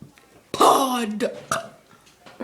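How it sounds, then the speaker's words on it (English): A boy lets out a long, loud, voiced burp followed by a shorter second one, close to the microphone, with a faint sound between them. "You're burping so much."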